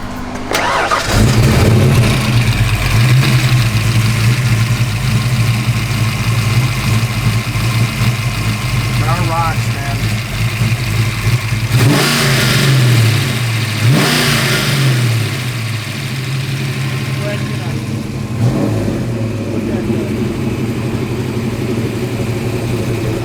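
A 1989 Ford Mustang LX engine starts and revs loudly up close, with repeated throttle blips over a steady rumbling idle and some talk mixed in.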